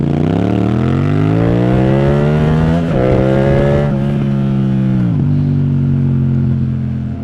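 A 2025 Yamaha MT-07 motorcycle revs loudly and continuously as the quickshifter cuts power for an instant at each upshift, the engine note dipping sharply and then climbing again twice in close, strong succession.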